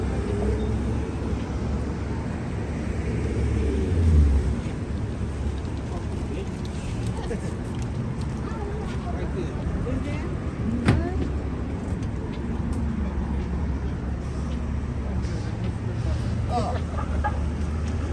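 A city bus and street traffic rumble through a Brooklyn neighborhood near Carroll Gardens and Park Slope, a steady close engine drone with a brief louder swell, while people talk nearby.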